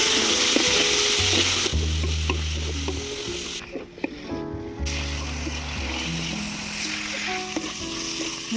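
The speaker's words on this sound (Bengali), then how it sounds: "গাজর আর মূলোটা একসঙ্গে ভেজে নেব" Carrot and radish fry together in a pan with a little salt and turmeric, a steady close sizzle that runs beneath louder background music.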